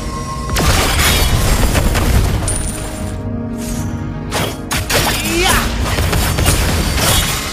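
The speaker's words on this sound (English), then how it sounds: "Your team destroyed a turret!" A turret is destroyed in Mobile Legends, bringing heavy booms and crackling explosive bursts over busy game effects and battle noise, loud and continuous throughout.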